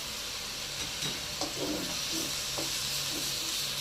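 Chili and garlic sizzle steadily in a hot wok while stir-fried for crispy pork skin with Chinese celery, a continuous frying hiss with brief stirring clatters, close and alone without talk.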